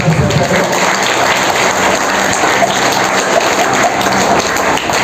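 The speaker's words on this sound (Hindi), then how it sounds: "एक बार ताली बजाएंगे सभी लोग।" A large group of people clapping together in a dense, loud, continuous burst of applause at a yoga session, with no single claps standing out.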